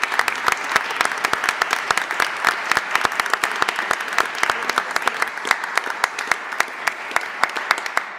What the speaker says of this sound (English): Let's give President Simmons one more round of applause.